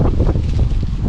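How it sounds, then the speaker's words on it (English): Strong gusty wind in England slams into the microphone, a loud, dense low roar with rapid buffeting pulses throughout and no speech. "It blows so hard here in England"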